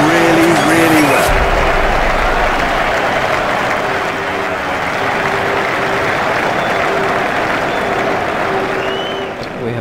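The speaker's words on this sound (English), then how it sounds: "He deserves the applause from the crowd today." A stadium crowd applauding in the cricket video game EA Sports Cricket 07, a loud, sustained wash of clapping and cheering that fades slightly, with commentary-style talk over it.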